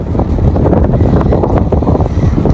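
Strong wind blows on a mountain, a steady loud roar with gusty buffeting on the microphone and no talk.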